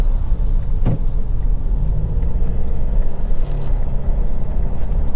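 Inside an automatic Mazda BT-50 pickup, a loud steady low engine and road rumble fills the cabin as the truck accelerates, with a single brief click near the start.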